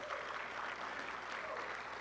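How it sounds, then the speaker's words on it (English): Applause at a hockey awards banquet, a steady wash of many hands clapping throughout, dense and even at a moderate distance. "Lots of applause there."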